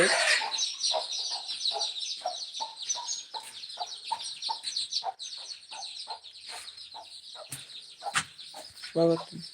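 Native country chickens clucking in a quick, repeated rhythm close by, with a bright rattling jingle from a stick fitted with small bells and a louder squawk near the end.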